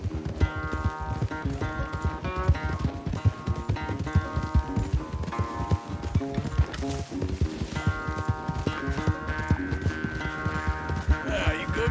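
A horse galloping hard in a race in the video game Red Dead Redemption 2, rapid rhythmic hoofbeats pounding close and steady under game music, with no talk.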